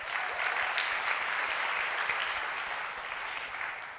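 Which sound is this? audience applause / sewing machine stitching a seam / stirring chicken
audience applause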